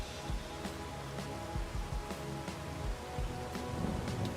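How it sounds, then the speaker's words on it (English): Steady rain pours in Farming Simulator 25 with a dense hiss, while soft low thumps and rumbles come and go beneath it. "It's raining"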